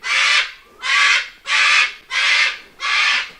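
A parrot called Hulk in an African animal sanctuary enclosure screams five times, harsh, loud calls about half a second each, evenly spaced and close by with nothing else in between.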